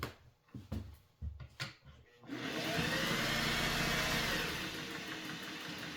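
A Singer 404 sewing machine set to 12 stitches per inch with tension at 3 clicks a few times, then runs into a steady, fairly loud motor whir of continuous stitching that lasts to the end.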